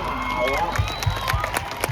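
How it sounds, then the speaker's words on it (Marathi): A crowd at a kushti wrestling ground in Kolhapur district claps and cheers in a dense, rhythmic burst, with a commentator talking over it. "अरे बापरे, टाळ्या टाळ्या टाळ्या"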